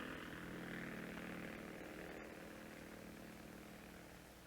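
A DC-3 propeller aircraft towing a lightweight steel and plywood lifting body, heard as a steady, loud droning engine and propeller roar that fades slightly toward the end, with no voices.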